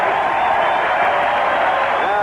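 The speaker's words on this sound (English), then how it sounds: "the roar of the crowd goes up again" A vintage 1980s baseball stadium crowd at a Cubs vs. Mets game roars steadily for Darryl Strawberry's home run, a dense, continuous cheer with scattered clapping that holds at full strength throughout.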